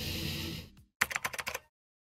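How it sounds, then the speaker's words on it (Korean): Quick bursts of typing on a mechanical keyboard under repair and reassembly follow a fading sound, with about eight sharp, close keystrokes in a rapid cluster before silence. "키보드 조립을 한번 해볼 겁니다."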